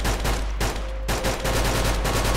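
Video-game gunfire crackles in rapid automatic bursts with short gaps between them, loud and close, heard alone without talk.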